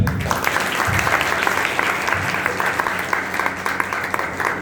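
A church congregation at a gathering in Barnala claps together in steady, sustained applause, a dense wash of many hands filling the room with no voices standing out.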